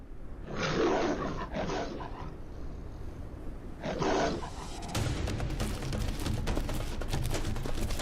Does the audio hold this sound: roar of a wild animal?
yes